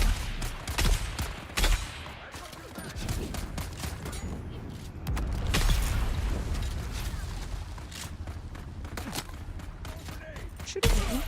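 Enemy gunfire in the video game Dune: dense, loud bursts of shots and booms crowd together with rattling mechanical noise, continuing nearly throughout.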